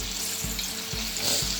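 Banana pitha batter frying in oil, a dense continuous sizzle and crackle close up, with soft low thumps repeating about every half second.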